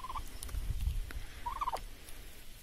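Large farm birds in a village yard call out in two short, gobbling bursts, one at the start and a louder one midway, over low rumbling outdoor background noise.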